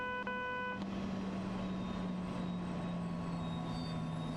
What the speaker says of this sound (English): So we're gonna be activating our train brake here. Come to a stop.